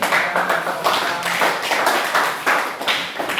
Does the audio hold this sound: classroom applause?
yes